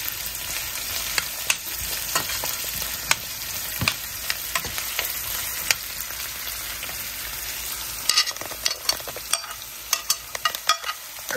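Finely chopped ginger sizzling in hot oil as it is stirred, a constant close crackle broken by sharp spatula scrapes and pops that grow busier toward the end, with no talk.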